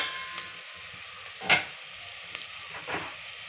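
Onions frying in a pan with salt sizzle softly while a spoon stirs them, with a couple of brief scraping clicks over a steady, quiet hiss.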